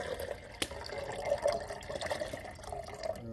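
Water poured for a Stanley French press at a mountain campsite, a steady close trickle and splash with one sharp knock early on.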